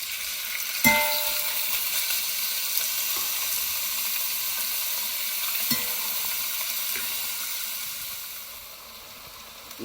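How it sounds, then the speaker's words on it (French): Veal pieces sear in a hot pot for a Basque axoa, giving a steady loud sizzle throughout with a couple of sharp clanks near the start and midway, fading slightly at the end; no voices. "dans une autre cocotte, on va faire saisir la viande"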